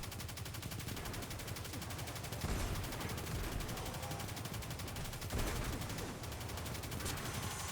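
Rapid, continuous gunfire from Destiny 2 fills the whole stretch, loud and dense bursts with a couple of heavier blasts, no talk over it.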